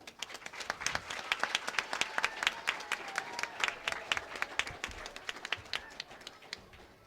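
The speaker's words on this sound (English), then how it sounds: "a round of applause for Manik Mia." A room of guests at a sporting foundation awards night applauds for Manik Mia, scattered individual claps forming a moderate, slightly uneven round of clapping that carries on for several seconds.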